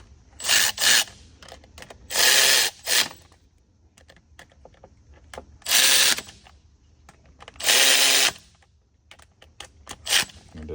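Bolts on the fan hub support of a 2020 International 4300 truck with a 6.7 Cummins are run down with a power tool, giving four loud, close bursts of whirring rattle separated by quiet pauses, plus faint shop clatter.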